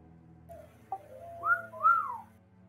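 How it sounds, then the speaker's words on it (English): A person whistles a few short notes: a brief low tone, then two rising, swooping whistles, fairly close and alone over faint background hum. "he's just kind of whistling as you continue asking"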